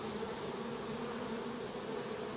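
Honeybees buzz steadily around experimental hives, a dense, continuous swarm drone that holds at an even level from start to finish with no voices.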